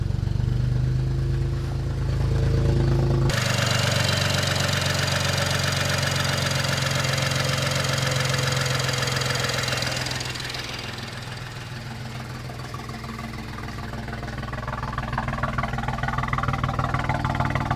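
A BMW 335i engine idles roughly after a cold start, running on only a few cylinders: a loud, uneven knocking and clattering idle that starts suddenly, holds steady, then settles into a lower, lumpier rumble.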